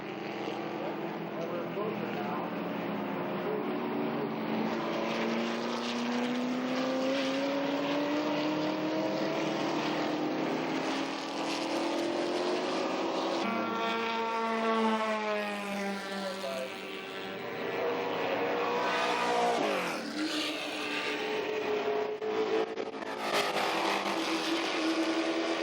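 A race car on a circuit roars past and away with rising and falling engine pitch through gear changes, loud and sustained, with someone talking over it.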